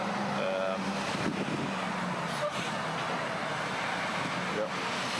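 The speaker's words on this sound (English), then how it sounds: "it's so windy out here." Strong wind roars and buffets against the microphone in a continuous rushing blast at an EV charging station, with faint background sounds beneath.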